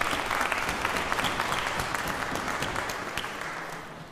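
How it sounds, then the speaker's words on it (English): A church audience at St Margaret's, Crick, applauds the choir after a Festival of Lessons and Carols, a sustained crowd clapping of many hands that fades slowly toward the end. "Shall we give them a round of applause?"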